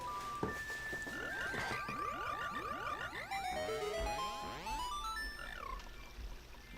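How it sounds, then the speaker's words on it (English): In the video game Ocarina of Time, a run of rising and falling melodic chirps plays, layered glissando tones sweeping up and down over several seconds with no talk. "Oh, there are frogs."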